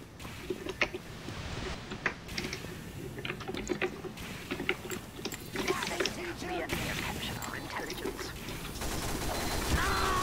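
In Team Fortress 2, rapid bursts of crit scattergun fire crack in scattered volleys amid other gameplay noise, with a player talking over the action.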